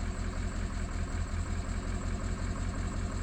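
A diesel engine idles steadily nearby, a low, even rumble with a fast rhythmic pulse and no voices over it.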